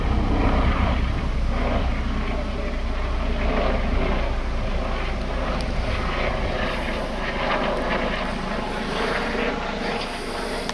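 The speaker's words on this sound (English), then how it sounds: "It's like the medevac helicopter." Steady engine drone of a medevac helicopter passing overhead, loud and continuous throughout with a low rumbling hum and rotor-like texture.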